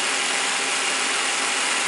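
A high-pressure aeroponic mister sprays a super-fine mist as a dense, even, continuous hiss, loud and close, with no talk over it.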